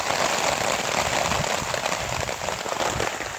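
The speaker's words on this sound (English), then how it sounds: "You'll see out there, it's raining" Steady, dense rain from a storm pours and patters onto a surface at Little Manatee River State Park, Florida, a continuous loud hiss with no pauses throughout.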